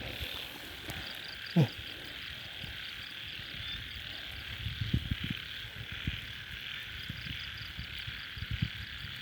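Frogs croak repeatedly at night during a frog hunt in rural northeastern Thailand. The calls are moderately close, set against a steady drone of insects and crickets, with one sharp louder chirp early on.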